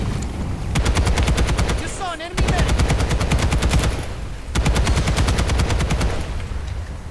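Automatic gunfire in the video game Planetside 2, rapid bursts of evenly spaced shots, loud and close, broken by short pauses between the bursts.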